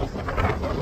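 Wind buffets the microphone in a brief, steady rush of low rumbling noise, outdoors in snowy weather in the Scottish Outer Hebrides.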